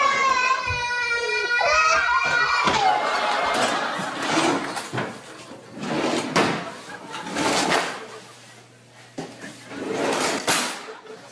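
A child opens and slams toy drawers in a series of sharp thumps and scrapes, with a voice and playful chatter over the start.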